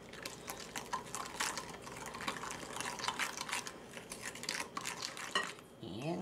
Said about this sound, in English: Here, stir that up.